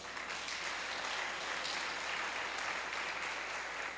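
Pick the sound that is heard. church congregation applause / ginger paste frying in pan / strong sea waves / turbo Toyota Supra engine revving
church congregation applause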